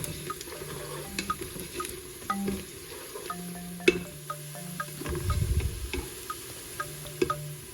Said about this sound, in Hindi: अब हम इसे थोड़ा सा मिक्स कर लेंगे और साथ ही साथ प्याज़ों को कर लेंगे लाइट ब्राउन